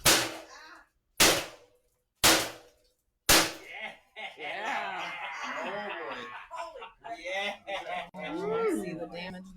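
Switchblade knives striking a bundle of bamboo: four sharp, loud cracking impacts in a steady rhythm, followed by excited voices talking and laughing close by.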